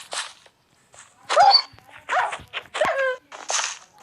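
A dog in the Minecraft video game barks several times in short, irregular bursts, fairly close and clear, with no talk.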